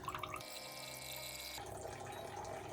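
Water runs steadily through an Ecoviva MATE4 smart countertop reverse-osmosis filter as it makes new water, a continuous close flow that shifts in tone partway through, with no talking.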